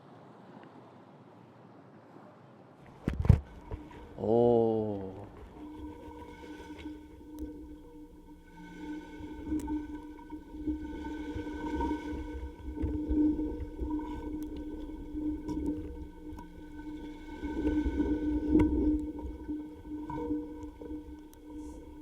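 Low, muffled rumbling and wash of waves hitting the shore, picked up underwater by a hydrophone, steady and fairly faint, with a brief knock and a short exclamation near the start.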